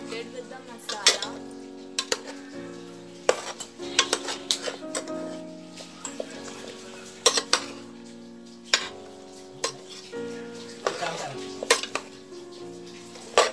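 A spoon stirs vegetables coated in masala in a pan while making South Indian sambar, with repeated scraping and sharp metallic clinks against the pan in an irregular rhythm, close and moderately loud.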